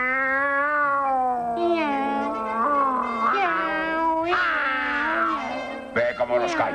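People imitate cats meowing and caterwauling, drawn-out wailing yowls that slide up and down in pitch, several voices overlapping close by, in a 1929 comedy set outdoors at night.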